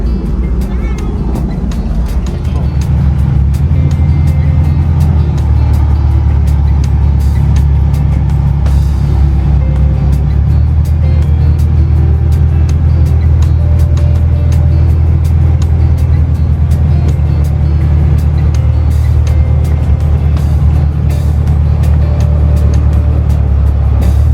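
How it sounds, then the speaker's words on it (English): A 1969 International Scout convertible on the road, a loud continuous low engine drone with wind and road noise, steady and close for the whole stretch, with occasional voices faintly underneath. "It felt good being out on a hot day cruising around the convertible."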